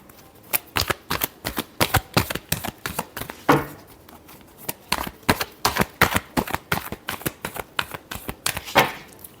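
Tarot cards are shuffled by hand in quick, repeated bursts of crisp riffling and flicking, close and clear, with short pauses between shuffles.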